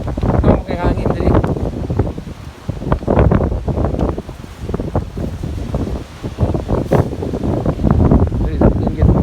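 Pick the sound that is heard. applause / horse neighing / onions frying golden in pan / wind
wind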